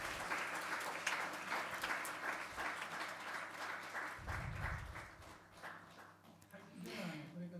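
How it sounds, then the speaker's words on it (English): A church congregation claps in celebration during a Sunday service, a lively crowd applause with scattered voices mixed in, rising and falling in intensity. "So clap in celebration."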